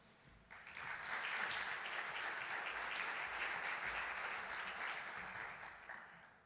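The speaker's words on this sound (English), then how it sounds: "Please give her applause." Warm audience applause rises quickly at the opening ceremony of a chemicals forum in Helsinki, many hands clapping in a broad, steady roar that swells and then slowly tapers off at the end.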